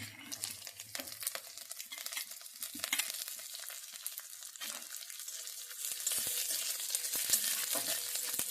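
Vegetables with curry leaves go into a hot pan and sizzle strongly up close, with crackling bursts and scraping stirs. The frying swells louder and steadier toward the end, and no one speaks.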